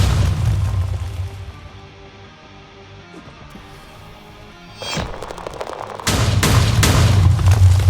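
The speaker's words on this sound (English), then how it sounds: "The next gunshot will be probably enough." Loud booming gunshots and explosions fill a monster battle in a video game, with dense bursts of fire at the start, a quieter lull in the middle, then heavy blasts returning near the end.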